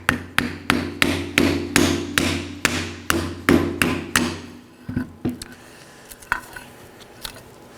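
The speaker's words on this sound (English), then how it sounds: "So grab your hammer and just tap them out." A hammer taps brake pads out of a 2018-2024 Chevrolet Equinox front brake in a quick steady run of about a dozen sharp ringing metal strikes, then a few scattered, quieter knocks and rattles.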